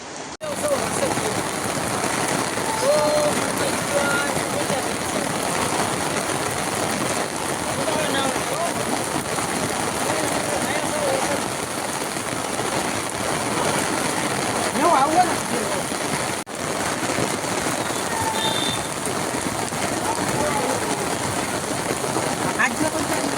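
Heavy first monsoon rain pouring in Bhavnagar, a dense steady hiss of downpour and running water that lasts the whole span, close and loud, with people talking over it at times.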